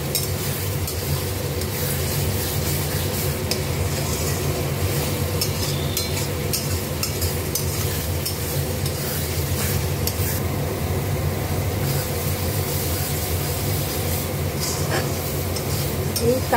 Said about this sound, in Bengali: এবার আমি জলটা দেবো।